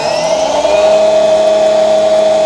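An EGO HPW3200 pressure washer runs through its rinse nozzle, a loud, steady motor whine with a constant hissing spray, close and continuous with no talk.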